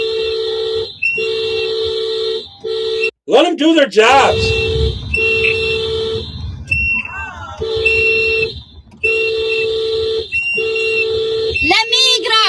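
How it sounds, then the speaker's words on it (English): A car horn honks in long steady blasts, repeating with short gaps, loud and near, while people talk and shout over it. "If you're honking the horn, why do you need to be blowing that whistle?"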